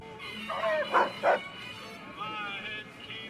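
A robot dog in a Fallout video game gives a few short, yipping barks close up, followed by softer whiny sounds.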